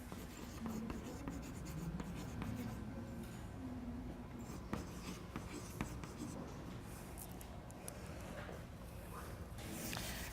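Chalk or marker strokes scratch across a board in a chemistry lecture on covalent bonds and atomic orbitals, a steady run of scraping and tapping with faint voices underneath.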